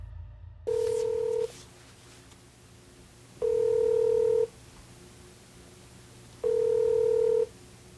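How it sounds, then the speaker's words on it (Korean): A phone line ringing back three times, each a steady electronic tone burst about a second long separated by quiet pauses, with no answer. "연결이 되지 않아 삐 소리 후"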